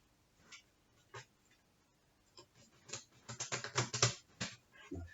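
Playing cards shuffled and mixed by hand during a home magic trick: a few soft, scattered riffles at first, then a dense, rapid crackle of cards up close, with no talking.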